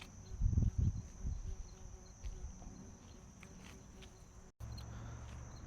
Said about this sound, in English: Getting attacked by bees here.